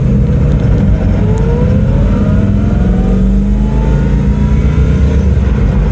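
A 1971 Iso Grifo fitted with a Corvette engine accelerates hard, its engine note loud, close and continuous as the pitch climbs steadily through the rev range, with no talking over it.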